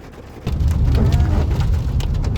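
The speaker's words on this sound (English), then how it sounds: "we're just having our snack in the car while we wait for the rain to pass" Rain drums steadily on a car roof heard from inside the car, starting softer and then swelling into a loud, dense patter with distant rumbles like thunder.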